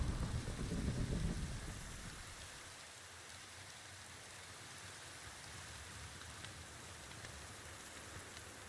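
Thunderstorm rain in the Minecraft modpack FTB OceanBlock 2, a steady soft hiss of falling rain with a low rumble fading in the first seconds, faint and alone.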